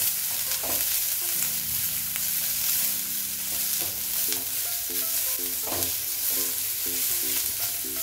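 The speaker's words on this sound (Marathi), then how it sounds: "यामध्ये लसूण घालायचं आहे, आलं परतून घेऊया।" Garlic and ginger sauté in a hot pan for a paneer and peas curry, a constant soft sizzle with occasional scraping stirs over a steady low hum.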